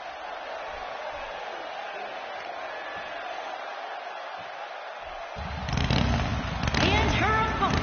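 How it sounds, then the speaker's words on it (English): Arena crowd in a WWE wrestling video game, a steady murmur under a commentator's voice that swells into a loud roar with bursts of cheering near the end. "And what about this crowd reaction, guys?"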